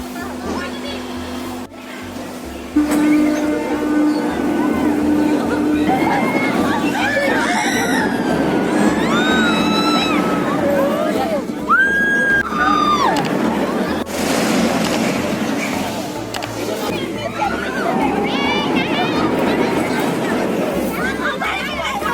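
Riders scream and chatter on the Santa Maria swinging ship ride at Fantasy Kingdom amusement park, with shrieks rising and falling in waves over a continuous crowd din. Someone talks close by throughout.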